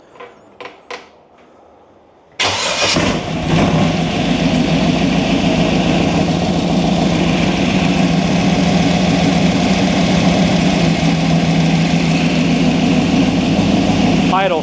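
A T-bucket hot rod engine fires up abruptly after a few faint clicks. It settles into a loud, deep, lumpy idle held steady close by for over ten seconds.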